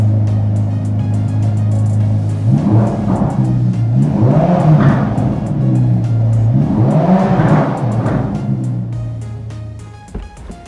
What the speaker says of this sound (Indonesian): kita dengerin langsung aja suara mesinnya. Kita coba gas-gas ya.